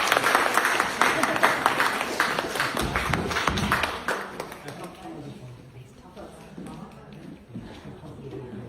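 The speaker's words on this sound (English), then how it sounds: "A round of applause, ladies and gentlemen." An audience at a hypnosis and IEMT talk gives a round of applause, a dense burst of clapping for a volunteer that fades after about four seconds into quieter room noise and murmuring.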